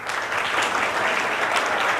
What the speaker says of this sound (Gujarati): સંજયભાઈ પંડ્યા મને જોરદાર તાળી એકવાર